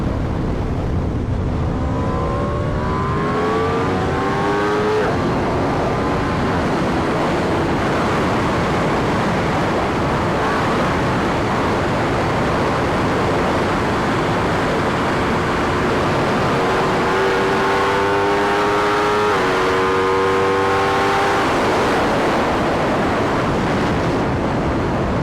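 Aprilia motorcycle engine, a newer Xtrenta, opened up to full throttle on a ride, revving rises and shifts heard under heavy continuous wind roar, loud and close throughout, no talk.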